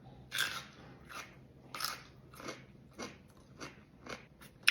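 Crisp bites into a Freestyle mini garlic dill pickle give a series of sharp crunches, about seven evenly spaced snaps followed by wet chewing, close and fairly quiet, with no talking.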